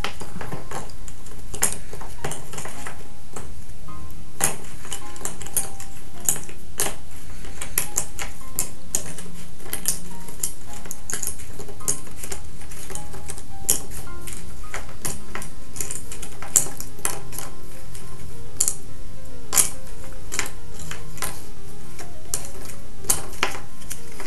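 Jigsaw puzzle pieces being broken apart and shuffled by hand on a table, a steady run of light cardboard clicks, taps and rustles, close and continuous with no talking.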